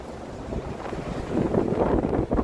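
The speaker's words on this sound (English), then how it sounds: "very windy today" Strong wind roars and buffets against the microphone at frozen Niagara Falls in winter, a loud continuous rush that swells stronger toward the end.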